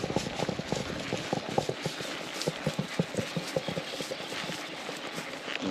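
A horse ridden by a gaucho in Paraguay clip-clops in a steady, quick rhythm of close hoofbeats that continues throughout, with no voices.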